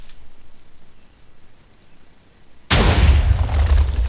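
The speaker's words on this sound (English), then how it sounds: "So as you can see, it detonates it roughly how I described it." A firework cannon exploding in Minecraft: after a quiet stretch of faint ticking, a single sudden loud boom breaks in and rumbles on heavily until the end.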